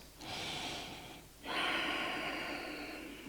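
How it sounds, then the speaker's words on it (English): Deep breaths are taken during a Sun Salutation yoga flow: a long, close, breathy exhale, a brief pause, then another long, airy breath, all alone and fairly quiet. "Taking deep breaths."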